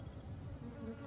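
Africanized honey bees swarm close around a beekeeper moving a Langstroth hive, making a brief, dense, continuous buzz with no other sounds.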